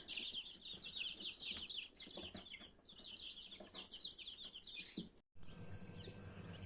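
Over 100 chicks chirp continuously in a box, high overlapping peeps, close by and busy, with a brief silence near the end before the chirping resumes.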